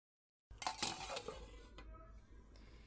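A metal lid settles onto a cooking pot of rupchanda fish curry with eggplant and potato, giving a few quiet clinks followed by a low simmering hiss in a home kitchen.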